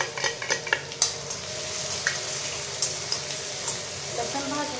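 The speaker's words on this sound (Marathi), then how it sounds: "लसूण भाजून घ्यायचं." Garlic frying in hot oil with chilies and curry leaves already in the pan gives a steady close sizzle, broken by sharp clicks and scrapes of a spoon stirring against the pan.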